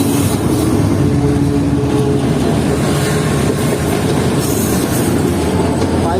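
The Sir Syed Express passenger train rolls along the tracks in Pakistan, a loud continuous rumble with rattling wagons, clickety-clack and some wheel squeal, heard from on board with no talking.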